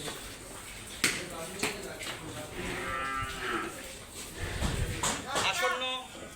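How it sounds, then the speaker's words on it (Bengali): Cattle being raised for Eid al-Adha sacrifice at Nahar Agro farm low in drawn-out moos, with a couple of overlapping calls close by, mixed with people talking and scattered thuds and slaps around the shed. "ভাই এই গরুগুলো একটু দেখাই দেন"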